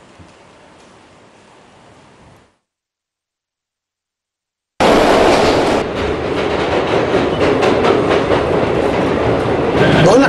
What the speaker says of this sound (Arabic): مترو. مترو.